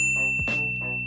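A notification bell sound effect plays: a bright, sustained electronic chime with a quick swooping ding in the middle, loud and clear with nothing else behind it.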